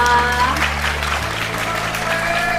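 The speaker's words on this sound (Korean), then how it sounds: "여러분 박수 부탁드리겠습니다" Audience clapping for a student receiving a prize at a high school fashion contest award ceremony, moderate steady applause with a tonal music or voice layer beneath it.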